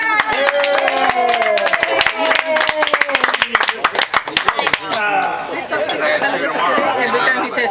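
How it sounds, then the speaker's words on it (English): A small group claps for a girl in a room, sharp near handclaps building into a brief flurry amid lively chatter and voices that continue after the clapping fades. "Everybody, let's clap for her."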